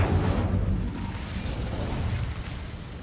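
Incendio fire spell cast in Hogwarts Legacy, a loud low whooshing burst at the start that rumbles and slowly fades, with no talk over it.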